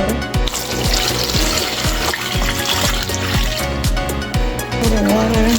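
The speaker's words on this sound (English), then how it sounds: "Put the water halfway up." Water pours into a cooking pot holding wrapped moi moi made with Bambara nut, set up for steaming, giving a bright splashing, gurgling trickle with rhythmic glugs, close and fairly loud.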